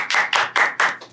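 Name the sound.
audience applause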